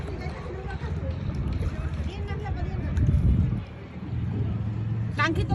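A boatman's wooden rowing boat moving along a river, with steady water swishing and splashing under wind noise and nearby voices talking over it.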